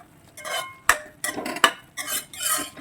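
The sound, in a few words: stirring kovaikka poriyal in a pan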